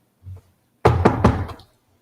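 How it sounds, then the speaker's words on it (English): A knuckle knocks on a plastic desk. One soft tap is followed by a quick series of three or four hollow raps, close and dry, in otherwise quiet surroundings. No talking is heard. "Knock on plastic desk."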